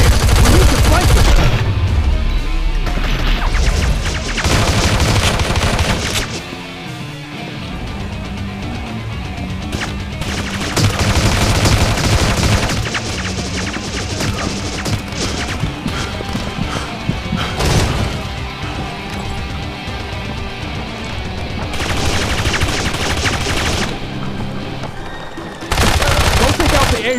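Dense, continuous video-game gunfire from Mortal Kombat 3 on Android: loud, sustained bursts of rapid shots and crashes that fill most of the stretch, with a few brief lulls and a music-like bed underneath.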